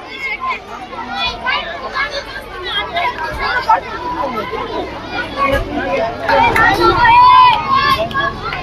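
A crowd of students at a school fair stall shouts and chatters loudly all at once, close and dense. The clamour of young voices overlaps and builds toward the end.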